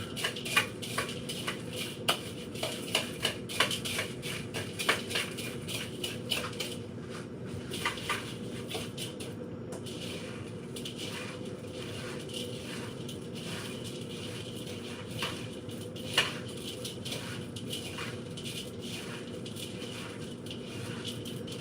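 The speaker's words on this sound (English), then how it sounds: "Stir up the stuffing and the meat." Spoon scraping and tapping in a dish while stuffing, meat and butter are stirred together for a chicken stuffing casserole, irregular soft clinks and scrapes throughout, fairly quiet.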